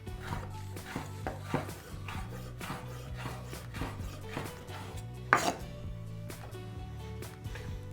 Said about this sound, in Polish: wkrajam boczek. Kroję go bardzo cieniutko.